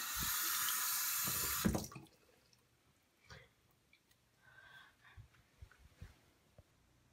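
Water runs hard from a sink tap for washing a face, a loud steady gush that stops abruptly, followed by scattered drips, splashes and handling sounds nearby.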